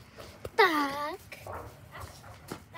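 A single drawn-out dog whine or yelp rises sharply and fades, with faint voices and quiet background noise around it.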